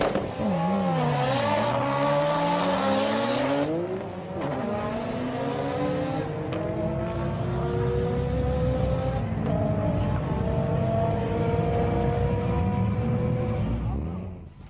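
A Nissan 180SX drag car built by Top Fuel with a huge Trust T88-34D turbo revs hard with rising and falling engine pitch, a loud continuous roar that holds strongly throughout at a drag strip.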